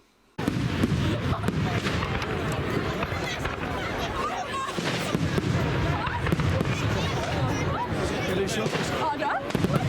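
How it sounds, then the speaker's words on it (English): Fireworks at Rye Bonfire Night, a steady barrage of crackling bursts and pops going off continuously, loud and dense, with crowd chatter mixed underneath. "and here they come."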